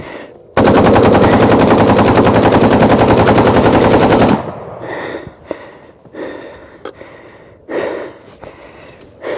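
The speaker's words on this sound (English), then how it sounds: "It's cooking off, it's on fire." AK-47 ammunition cooking off in a fire as rapid, extremely loud continuous gunfire for about four seconds, then stopping abruptly, followed by heavy breathing, gasps and scattered handling sounds.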